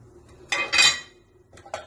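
A utensil stirring spice powders into kheema in a pan, two bursts of metallic scraping and clinking close up, then a short pause and two quieter scrapes, with no talking.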